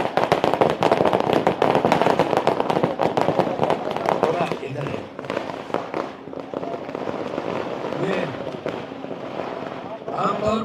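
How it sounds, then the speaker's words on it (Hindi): Firecrackers burst in a dense, loud crackling barrage at an outdoor Aam Aadmi Party political rally in Limkheda, Gujarat, tapering into scattered pops as a crowd noise and amplified voices continue. "नतीजे आने के बाद ऐसे पटाखे होते हैं,"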